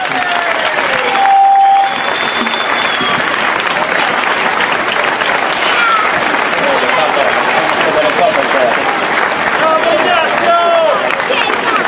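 Dense, loud crowd applause for a cyclist fills the space, sustained clapping and cheering throughout with a brief lull near the start.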